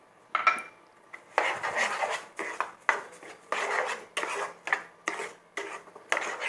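A spoon scraping and clattering against a metal pan while sugar is stirred into atta halwa, a rhythmic series of close, bright scrapes and knocks repeating roughly every half second, with no talk.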